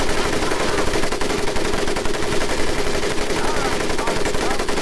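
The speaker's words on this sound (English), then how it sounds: "M1919 A430 caliber machine gun." A video-game M1919 A4 .30 caliber machine gun fires one loud, sustained burst of rapid shots at close range, with no pause and no voices.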